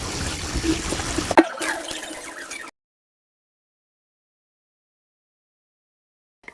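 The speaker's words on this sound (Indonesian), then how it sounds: "Aku cuci ketan hitamnya hingga 3 kali bilasan." Black glutinous rice being washed and rinsed in water, giving close splashing and trickling for a couple of seconds with a single clack, then silence.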